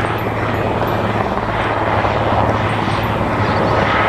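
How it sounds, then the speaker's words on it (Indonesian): A helicopter flies nearby, its rotor producing a loud, continuous thudding drone that holds steady throughout the few seconds. "Lihat teman-teman, ada helikopter."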